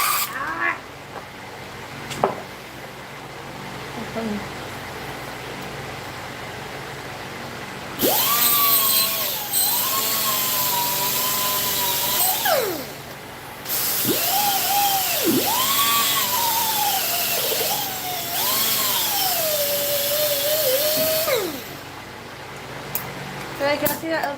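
Power grinder whirring through several sustained bursts with rising and falling pitch, worked on a V-twin engine that is down on power, close and loud, with short pauses between runs and people talking around it.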